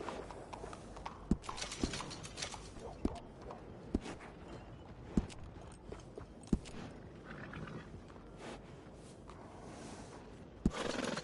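A horse is groomed in the video game Red Dead Redemption 2, with soft repeated brushing strokes and sharp periodic hoof clops or knocks spaced about a second apart, all heard close up over a quiet ambient bed.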